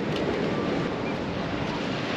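Rough Gulf of Mexico surf churned up by high winds, heard from a pier at an Alabama state park, as a steady loud wash of waves and wind rush with no let-up.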